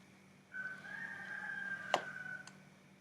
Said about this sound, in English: Sorry if you can hear the roosters.